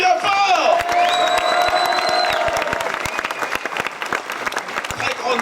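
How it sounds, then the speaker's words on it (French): Loud applause with cheering and whoops from a ball audience, a dense wash of clapping throughout with a brief sung or shouted tone early on, fading slightly toward the end. "On l'applaudit bien fort!"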